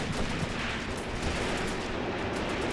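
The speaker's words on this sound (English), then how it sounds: "Look at that machine gun." Machine gun fire in the war game Graviteam Tactics: Mius Front, a dense, continuous rattle of bursts with heavier booming shots mixed in, loud and unbroken throughout.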